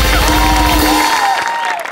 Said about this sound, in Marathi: त्यांचं टाळ्यांच्या गजरात स्वागत करूया